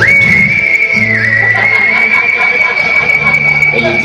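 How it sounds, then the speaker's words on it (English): A long, steady whistled tone holds one high pitch for several seconds with a brief dip, over a background of music and voices. "And then you whistle at this part."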